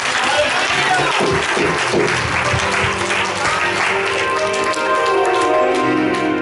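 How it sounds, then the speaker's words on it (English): Church congregation at a prayer breakfast giving a hand clap of praise, a loud, dense wash of clapping from many people filling the room, steady throughout with voices mixed in beneath. "Y'all give God a hand clap of praise."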